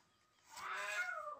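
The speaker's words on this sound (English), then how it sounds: "Yeah, that's a cat." A single cat meow, faint and drawn out, rising then trailing off over about a second in a quiet room.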